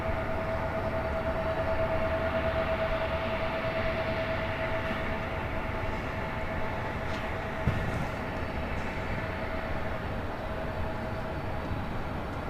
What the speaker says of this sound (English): this is Delta Airlines flight 2541 heading to JFK in this 25-year-old 767-300ER